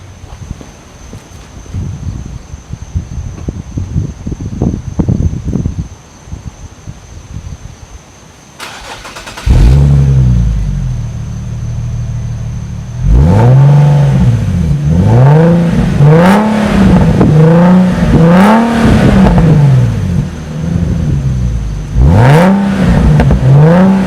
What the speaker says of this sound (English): it's just a great engine with a great engine note, which I'll show you now.